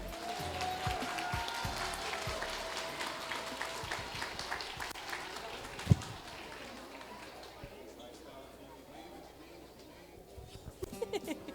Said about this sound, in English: Let's give one more round of applause for all of our kindergarten students.